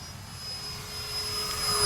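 A Freewing A-10 Warthog V2 RC jet with twin 64mm electric ducted fans cruising at about mid throttle, heard as a distant, steady airy whine that swells gradually, with no other sounds.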